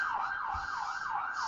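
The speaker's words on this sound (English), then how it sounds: "There goes an ambulance." A wailing ambulance siren sweeps up and down in steady repeated cycles, loud and continuous throughout, with faint traffic rumble underneath and no talking.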